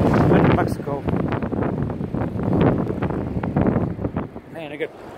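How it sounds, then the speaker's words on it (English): Strong gusting wind during a high wind advisory in New Mexico buffets the microphone with heavy, continuous rumbling roar, while someone speaks intermittently over it. "Man, you can feel this wind out here. Gosh, it's bad today."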